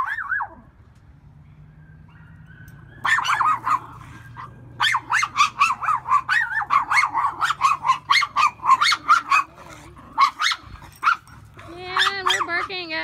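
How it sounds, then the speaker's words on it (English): A miniature schnauzer barks in a rapid series of sharp, close barks, with a pause near the end before whining yelps; a person talks briefly at the start. "we're barking at pretty much nothing."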